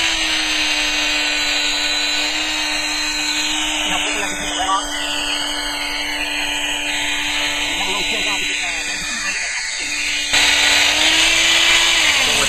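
3M eraser wheel spun on a regular drill motor, stripping a decal off a vehicle panel: a loud, steady whirring whine with rubbing friction, running throughout while someone talks over it.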